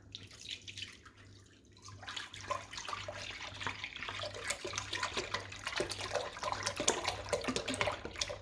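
Full cream milk poured from a container into a cooking pot, a steady liquid splashing and gurgling that starts after a short quiet moment and continues, close up, with no talking.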